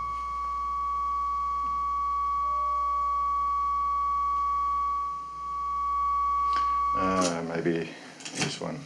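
A steady sine wave hums through the dual fader of a Hordijk modular synthesizer, holding a pure tone before shifting into a brighter, distorted burst near the end.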